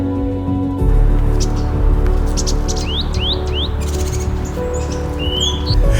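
Short, bright bird chirps and upward-sweeping whistles repeat over a low, steady background hum, some calls closer, others fainter.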